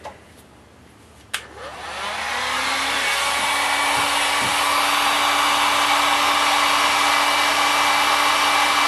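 A heat gun warms a plastic piece for a Rock Band guitar camera mount so it can be bent. A click starts it, then a loud, steady blowing roar builds and holds close to the mic.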